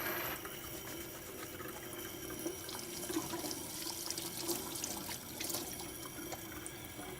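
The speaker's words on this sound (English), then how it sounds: "washing your hands, simple soap and water will do" Water flows from a tap while hands are washed with soap before preparing a central line kit, a faint, steady splashing stream with small bursts of movement and no talking.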